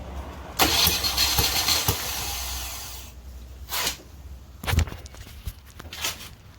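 Mini Cooper R53 engine cranked over during a compression test, a sustained starter-motor churn for about two seconds followed by shorter bursts of cranking, close and fairly loud with no engine catching.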